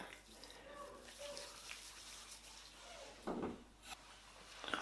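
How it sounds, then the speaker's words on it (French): A face being rinsed under running water from a tap, a soft continuous flow with a few splashes and a brief louder gush near the end. "là je vais vous laisser quelques instants pour rincer tout ça"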